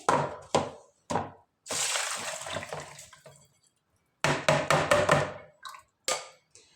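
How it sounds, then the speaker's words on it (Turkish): Water drained from grapes soaked about three hours in warm water is poured through a strainer into a container, with bursts of splashing and trickling broken by short pauses and sharp knocks, fairly close. "Şimdi bunu süzelim bir kabın içerisine."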